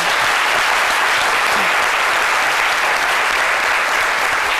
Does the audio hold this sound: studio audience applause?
yes